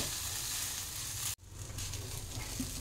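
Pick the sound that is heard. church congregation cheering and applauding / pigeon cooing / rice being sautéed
rice being sautéed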